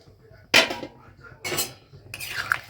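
A spoon stirs a pot of khichuri (lentil-rice dish) in three distinct scraping strokes, each a short, close rasp against the pot, with quiet pauses in between.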